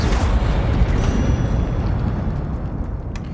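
A burst of Incendio fire magic from the Hogwarts Legacy video game, a loud, sustained roaring whoosh of flame that slowly tapers over a few seconds.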